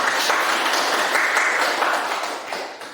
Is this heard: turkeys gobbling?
no